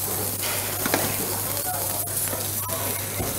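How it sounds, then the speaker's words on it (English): Lamb chops go into a very hot, lightly oiled pan and sizzle in a steady, close hiss with faint crackles, while someone talks over it. "Then add the chops."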